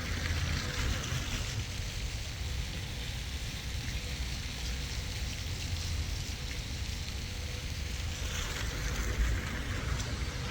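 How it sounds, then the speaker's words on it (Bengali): A park fountain in front of a hotel near a metro station rushes with steady, broad splashing water noise throughout, constant and fairly close, with no voices over it. "ঝর্ণা।"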